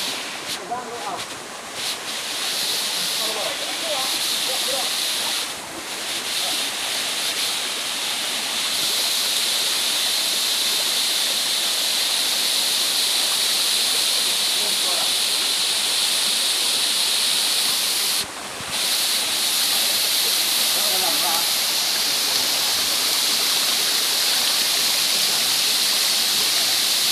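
Waterfall at Bukit Sirih, part of the Batu Basurek falls near Sungai Geringging, roars as a steady, loud broadband rush of falling water through the whole stretch, with brief dips and faint voices now and then beneath it.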